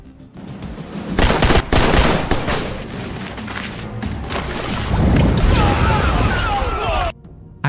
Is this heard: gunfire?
yes